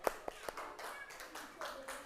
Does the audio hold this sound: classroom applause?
yes